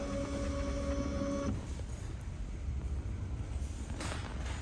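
A Galaxy Jet Max printer whirs as its carriage travels with a steady motor hum and then stops, followed by softer mechanical shuffling and a couple of clicks as the cap station rises.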